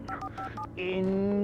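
Phone dialing tones in the video game Alan Wake 2: a quick series of short keypad beeps, then a longer sustained tone, fairly loud and clear.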